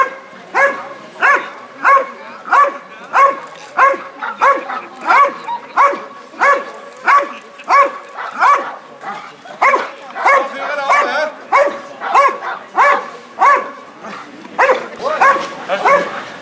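A police service dog barks at a suspect during a service-dog demonstration, giving loud, close, rapid barks in a steady rhythm, about twenty in a row, with a few whiny yips mixed in.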